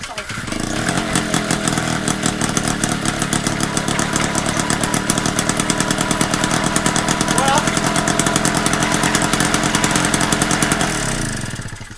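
A battered old MBK 51 moped engine, its decompressor removed, runs at a fast, rattling two-stroke idle, loud and close, with a steady buzzing pulse that keeps up for the whole stretch before cutting off near the end.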